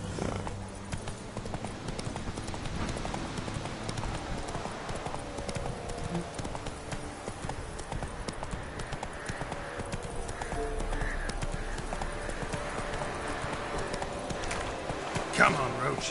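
Hooves of Roach, Geralt's horse in The Witcher 3, clip-clop at a steady galloping rhythm throughout, close and continuous, with someone talking over the hoofbeats and a brief whinny-like accent near the end.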